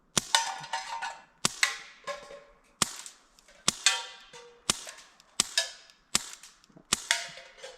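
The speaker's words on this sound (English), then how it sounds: "It's definitely a good backyard plinker. It is not the quietest air gun." Umarex Avera air gun firing at cans in a backyard, about nine sharp cracks at an uneven pace roughly a second apart, each followed by a brief metallic ring and decay, with no talking.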